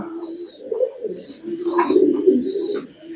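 Pigeons coo in soft, low rolling calls, close by, repeating in a steady murmuring rhythm.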